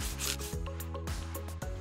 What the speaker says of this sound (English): Move the soap around to give Tango a scrub.